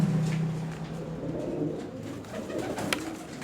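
Pigeons coo softly in a Turkish pigeon seller's loft, a low throaty call near the start fading into a muffled, busy indoor background with a faint click near the end and no talking.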